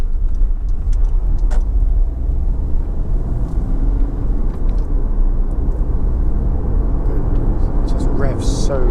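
A Honda CR-V 1.6 i-DTEC diesel EX 4WD picks up speed on the road, giving a smooth, quiet, steady engine and road hum heard from inside the cabin.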